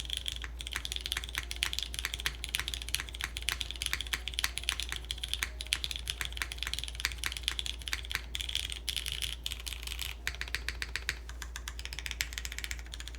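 Mechanical keyboard switches on an Ori60 60% keyboard build, typed on without keycaps: a steady stream of crisp, fast clacks with short pauses, close and fairly quiet, with no voices.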